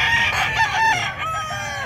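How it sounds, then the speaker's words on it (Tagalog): Chickens and roosters at the San Carlos City livestock market in Pangasinan, with a rooster crowing loudly up close and hens clucking over a busy background. "12 ang dalang manok ni sir ngayon."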